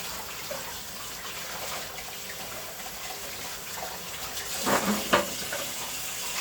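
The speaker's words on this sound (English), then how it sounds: "But let me wash my hands." Hands being washed under a running kitchen tap, a soft steady stream of water with gentle splashing that briefly gets louder near the end, fairly quiet and without talk.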